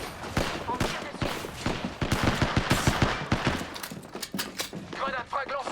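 Rapid bursts of gunfire in the video game Apex Legends, sharp repeated cracks firing in quick succession, with brief voice sounds in between.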